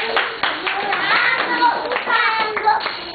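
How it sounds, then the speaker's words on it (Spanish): Audience applause for a child juggler at a charity foundation event, a dense burst of clapping hands lasting a few seconds with some voices mixed in. "un aplauso para Mango."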